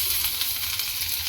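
A paste of ground green chili, ginger and garlic hits hot oil with crackling cumin and mustard seeds, giving a loud, continuous sizzling hiss throughout.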